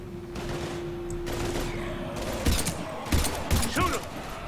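Gunfire in a Mass Effect 3 firefight against husks, with several loud bursts of shots in the second half over a steady hum of battle noise and a low tone.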